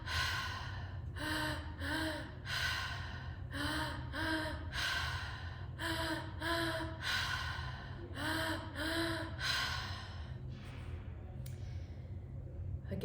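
Deep breathwork inhales and exhales fill the belly and chest, a repeated cycle of loud, close, rhythmic gasps and sighs over a low steady hum, the breaths trailing off near the end.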